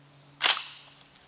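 A fire-damaged Remington 1100 shotgun with a suspect gas tube that fails to eject shells, test fired once, a single sharp distant-sounding report that decays quickly.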